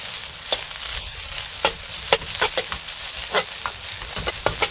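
Spring onion stir-frying in pork lard for fried rice, a steady sizzle broken by repeated sharp scraping stirs and clacks of the utensil against the pan, close and loud with no talking.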